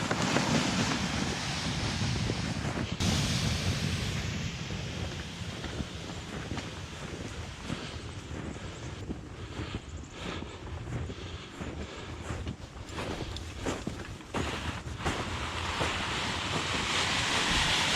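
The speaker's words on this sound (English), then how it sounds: "I can hear the water, but it just looks solid." Shallow creek water flows beneath ice at a snowy winter trailhead, a steady broadband rush mixed with wind buffeting the microphone, continuous and fairly loud throughout with no talking.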